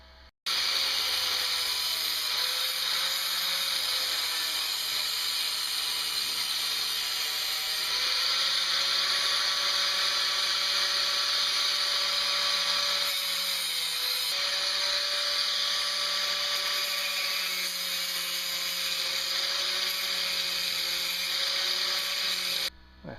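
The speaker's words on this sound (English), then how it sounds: "Angle grinder precision." An angle grinder works steadily on a metal axle part for a solar bulldozer build, a loud, continuous high whine that holds for over twenty seconds with slight pitch shifts as the load changes, close and without speech.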